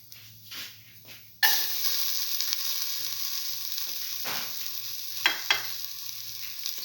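Garlic dropped into hot oil in a pan for a black lentil and ash gourd stew, a sudden loud sizzle bursting in after quiet and then holding steady, with a few sharp crackles and stirring scrapes.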